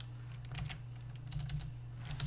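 Code is typed on a computer keyboard in irregular bursts of light key clicks, close and clear over a steady low electrical hum.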